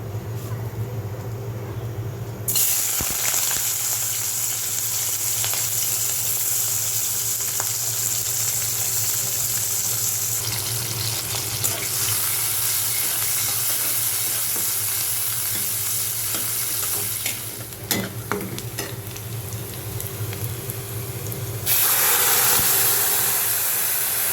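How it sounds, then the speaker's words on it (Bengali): Chickpeas dry-roasting in a pan, with a steady sizzling hiss and stirring scrapes running continuously for about twenty seconds, the texture shifting slightly as the pan is worked. "ওর জন্য আমি ছোলাটা ভুনে নিচ্ছি"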